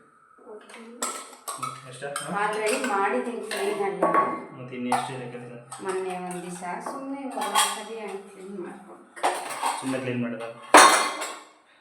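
Pots and utensils clank and clink close by as a kitchen is cleaned at night, under voices talking throughout.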